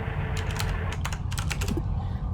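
Keys on a computer keyboard are tapped in quick irregular bursts, close and clear over a steady low background hum, with no talking.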